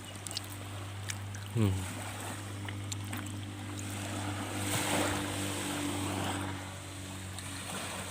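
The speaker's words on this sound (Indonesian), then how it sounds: "Suara ombak yang ada." Ocean surf at Kuala Makmur beach, a soft continuous wash of waves swelling gently around the middle, mixed with a low steady hum and a few small knocks, with faint voices nearby.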